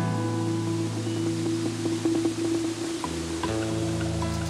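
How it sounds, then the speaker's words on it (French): Cascading waterfalls tumble one into the next down a wooded river valley, a steady broadband rush of water that holds throughout, with a few brief clicks and knocks near the end. "Au fil de cette vallée, les cascades se jettent les unes dans les autres."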